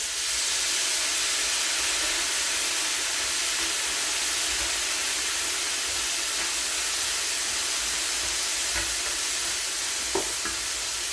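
Continuous loud hissing and sizzling as vinegar and water steam in a hot pan, with occasional faint scraping, no voices.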